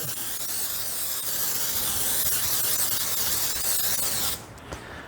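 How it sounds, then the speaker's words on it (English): A continuous close hiss of cooking spray into a baking dish runs for several seconds, then cuts off abruptly. "We'll spray it really good."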